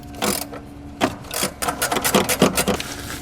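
Rusty bolts being loosened on a car during a teardown, a series of close, uneven ratcheting and grinding bursts, irregular at first, then quicker and more regular toward the end, with no talk.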